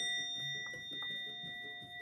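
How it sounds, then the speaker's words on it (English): A bell or chime rung during a guided energy-clearing meditation, its steady sustained tones ringing on and fading evenly throughout, close and moderately loud with no talk over it. "One more bell to clear the energy inside the egg."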